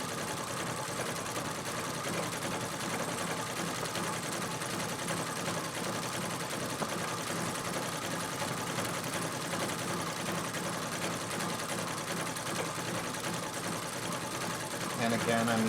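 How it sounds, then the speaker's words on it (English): Treadle sewing machine stitching tiny free-motion circles for a quilted leaf background, a steady dense mechanical whir running close and continuous throughout. "I'm using my treadle sewing machine"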